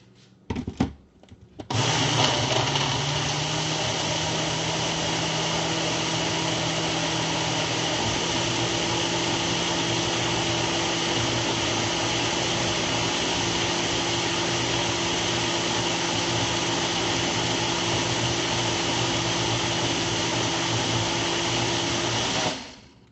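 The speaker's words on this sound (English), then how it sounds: "So you blend it, and voila, you have a green smoothie" A countertop blender whirs steadily as it purees a green smoothie, starting with a few short pulses before running at a constant, loud, close pitch for about twenty seconds and then winding down.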